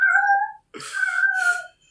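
A house cat lets out two drawn-out, whiny meows in quick succession, close by and clear, separated by a short gap of silence.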